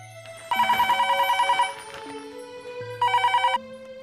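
A telephone rings with an incoming call in a home, two bursts of a bright electronic ringtone separated by a pause, loud and close with a faint background hum.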